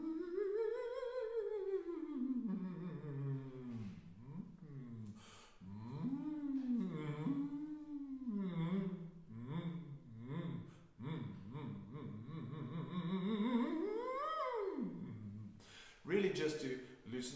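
A choir sings a vibrato warm-up, their voices sliding up and down in pitch in wavering, swooping phrases with a pulsing vibrato, fairly quiet and continuous.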